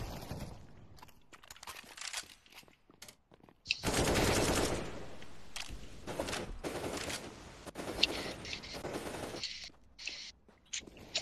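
Video game gunfire in close bursts, rapid automatic volleys and scattered single shots breaking through quieter gaps, loud and sharp with no talking.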